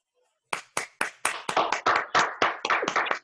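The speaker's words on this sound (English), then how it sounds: "Clap your hand, my people." At a Toastmasters meeting, a few slow claps build into quicker, overlapping applause from a small group, sharp and fairly close, after a moment of silence.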